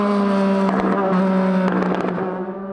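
A car engine burbles and crackles through its exhaust while coasting off throttle, a loud, steady harmonic drone broken by sharp pops and crackles near the middle and again later.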